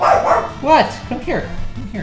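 A pet dog gives a few sharp barks and yips, close and loud, reacting to a sound from a video game, while a person speaks to it.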